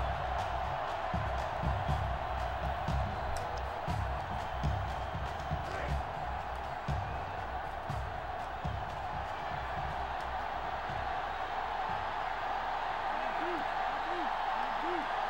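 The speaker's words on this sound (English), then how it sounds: "Crowd going crazy again." Stadium crowd roars and cheers steadily in the NCAA Football 06 video game during a college football matchup between North Dakota State and Sam Houston State, a dense, continuous wash of noise with faint commentary-like voices beneath.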